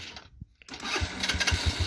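An electric starter whirs briefly, then the small engine of a Kuba Viptrack 250 motorcycle catches and settles into a rapid, chugging idle, close by.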